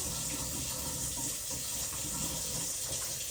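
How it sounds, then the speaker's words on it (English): Water runs steadily from a tap into a sink during hand washing, a constant close splashing hiss with no voices over it. "So we turn the tap on"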